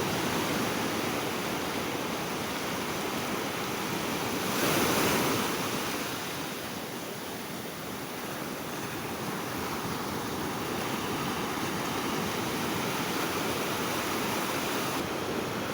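Heavy ocean swell breaking on a beach during a morning fishing session, a continuous loud wash of surf with a brief swell in roar, heard alone with no talk.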